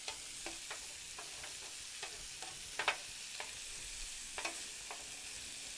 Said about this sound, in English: Mix it with the butter and get it all good and yummy.